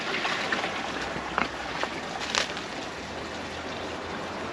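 Water runs through newly moved pond pipework, a steady hissing, gurgling flow, fairly close, with a few brief knocks and splashes near the start and no talk.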